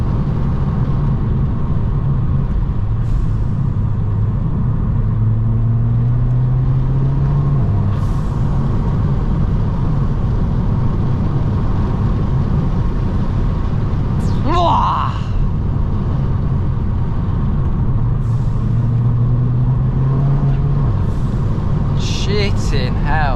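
A 280 bhp Volkswagen Scirocco driving and accelerating, heard from inside the cabin as a loud, continuous low engine drone with rising pitch sweeps through the gears, plus occasional clicks and a brief hiss.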